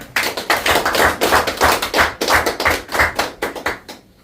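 Audience applause at a year-end party held by a Marine Corps veterans' group, a fairly close, dense patter of many hands clapping steadily for about four seconds before tapering off.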